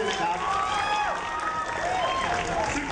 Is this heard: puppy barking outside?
no